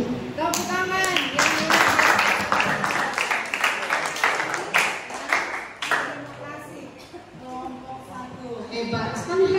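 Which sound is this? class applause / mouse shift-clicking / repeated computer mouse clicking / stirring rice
class applause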